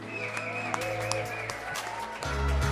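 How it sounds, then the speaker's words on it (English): Applause at an art auction, a steady mass of clapping from the audience that swells toward the end, heard under music and a faint voice. "Would you give all those people a big round of applause?"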